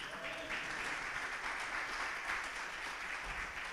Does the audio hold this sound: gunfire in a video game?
no